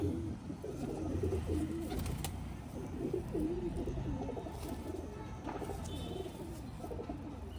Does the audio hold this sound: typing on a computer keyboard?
no